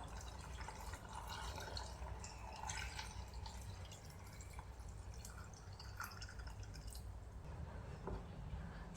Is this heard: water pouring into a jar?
yes